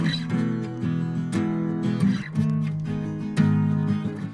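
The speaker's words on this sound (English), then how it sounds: "It's just a little synth that is buried very far in the background" Guitars strum a steady chord pattern with a soft synth pad buried far back, swelling quietly underneath and filling out the background.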